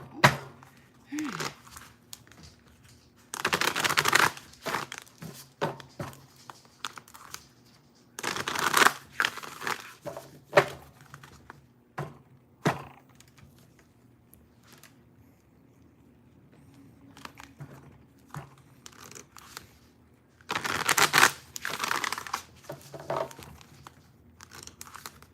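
Tarot cards are shuffled by hand in several brisk riffling bursts separated by quieter pauses with faint rustling and occasional soft talk, close and crisp.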